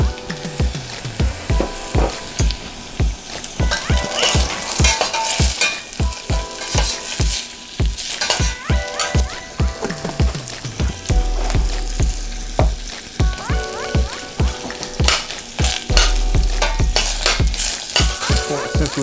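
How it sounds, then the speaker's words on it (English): Onions sweating in about two tablespoons of butter in a hot pan, with a steady close sizzle broken by repeated scraping stirs and utensil clinks against the pan throughout, and no talking. "Since we're sweating the onions"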